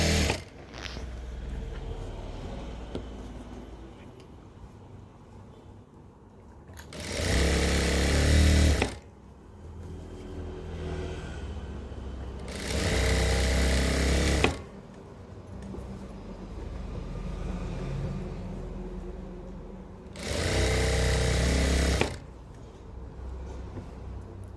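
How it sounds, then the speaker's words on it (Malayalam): A sewing machine stitches the side seam of cigarette pants in three loud bursts of steady whirring, each about two seconds long, separated by quieter handling noise with no talk. "സൈഡൊന്ന് സ്റ്റിച്ച് ചെയ്ത് കൊടുക്കാം."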